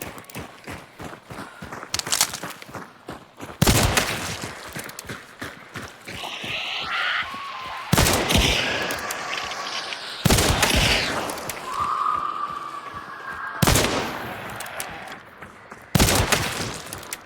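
Heavy musket-like gunshots in Hunt: Showdown, five loud booming blasts spaced a few seconds apart, with clattering footsteps, rustles and faint tones between them.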